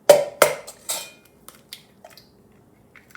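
Two eggs for chocolate lava cakes crack against a dish with two sharp, close knocks, followed by softer scattered taps and shell crunches, then near silence.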